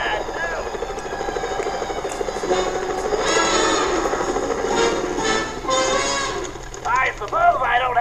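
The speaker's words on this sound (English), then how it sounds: "Those security choppers are bad news." Security helicopters in the Sly Cooper video game fill the scene with a continuous whirring rotor drone that swells and fades. Other game effects chatter near the end.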